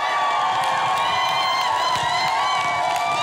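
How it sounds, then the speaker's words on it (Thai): Studio audience at a Thai TV singing show bursting into loud, sustained applause mixed with cheers and whoops, a dense continuous roar filling the room. "เอาเสียงปรบมือฮะ"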